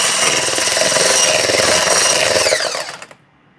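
An electric hand whisk beats a dessert mixture in a Portuguese home kitchen, a loud, close, steady whirring drone for about three seconds before it winds down and cuts off.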